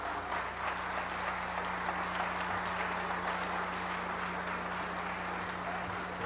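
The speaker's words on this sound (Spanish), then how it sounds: "solicito un fuerte aplauso" Sustained applause fills a legislative chamber in Mexico State, steady and dense throughout with a constant low hum beneath, no voices rising above it.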